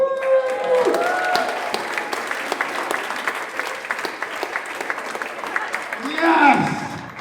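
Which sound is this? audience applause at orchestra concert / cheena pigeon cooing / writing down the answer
audience applause at orchestra concert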